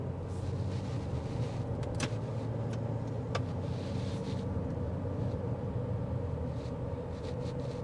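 Cabin road noise inside a 2026 GMC Terrain AT4 on all-terrain tires while driving, a steady low rumble and tire roar with a few faint clicks and bumps.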